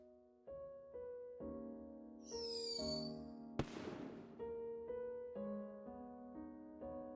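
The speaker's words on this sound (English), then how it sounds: "According to the custom here, there'll be fireworks at the funeral." Funeral fireworks in the video game Return of the Obra Dinn: a brief rising whistle, then one sharp, cracking burst over soft, steady melodic game music, fairly faint overall.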